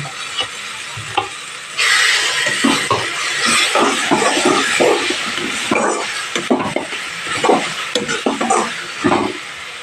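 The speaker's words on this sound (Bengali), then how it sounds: "এই পর্যায়ে এসে আমি একটু ধনে পাতা কুচানো দিয়ে মশলাটাকে আরেকটু কষিয়ে নেব" Masala for egg curry, with chopped coriander added, is sautéed and stirred in a pan: a loud steady sizzle with repeated scraping strokes of the spoon, close up and without talk.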